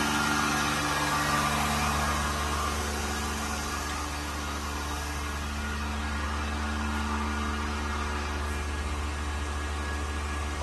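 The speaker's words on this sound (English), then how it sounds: "And the vacuum pump is working stably." A vacuum pump runs on a mixing system, giving a steady, even mechanical hum with a broad hiss over it, unchanging in level for the full stretch with no voices.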